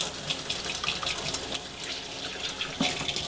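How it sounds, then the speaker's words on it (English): Tap water runs steadily into a kitchen sink as hands are washed, a continuous close splashing hiss with small shifts as the hands move under the stream, and no talk. "Just going to wash my hands."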